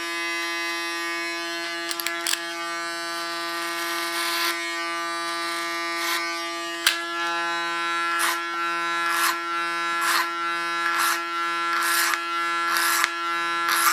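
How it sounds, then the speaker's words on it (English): An electric hair clipper buzzes steadily up close as it trims a woman's very short hairstyle along the hairline and behind the ear, its pitch wavering and briefly roughening each time the blades pass through hair, with no talking. "go over the facial line, holding the clipper on an angle of 45 degrees"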